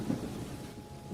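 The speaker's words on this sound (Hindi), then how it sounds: "बिजली कड़क रही है और मूसलाधार बारिश हो रही है।" Thunder rumbles low and steady beneath a dense wash of heavy monsoon-style downpour, a continuous roar of rain with no voices.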